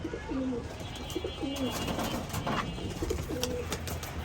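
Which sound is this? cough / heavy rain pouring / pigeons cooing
pigeons cooing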